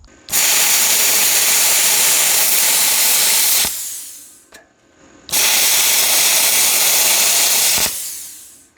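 A VEVOR CUT-50P plasma cutter slicing rusty metal, 16 gauge to eighth inch, sends out two long, loud, steady hissing bursts of several seconds each, separated by a brief pause, with no talk.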